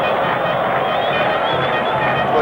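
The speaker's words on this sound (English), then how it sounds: "the whistles and cheers from the crowd, who are getting very impatient" Stadium crowd at a 1990 World Cup qualifier between Peru and Bolivia whistles and cheers impatiently, a dense, steady wash of massed voices and whistles filling the whole stretch without pause.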